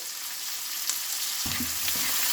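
Chopped onions frying in oil with salt, a steady broad sizzle throughout, with a thicker crackling burst joining in about midway as more hits the hot pan; no voices.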